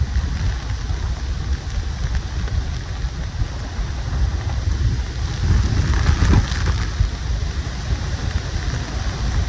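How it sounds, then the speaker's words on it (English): Strong wind gust on a cold winter hiking and camping trip in snow and rain, a loud continuous roar and buffeting rumble close to the microphone that swells midway. "That is a super strong wind gust."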